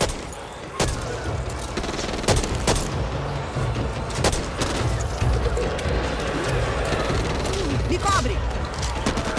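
Gunfire in the zombie shooter Back 4 Blood on Xbox One, heard as several sharp, loud shots spaced a second or two apart over a constant game rumble, with voices talking throughout.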